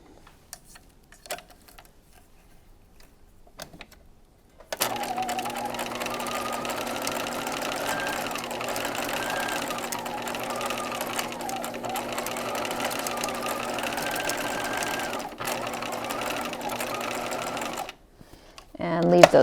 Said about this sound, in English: one row of gathering stitches.